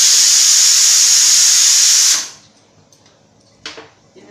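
Cabbage frying in hot oil in a home kitchen, a loud continuous sizzling hiss for about two seconds that then cuts away to near quiet, with a couple of soft clinks afterward.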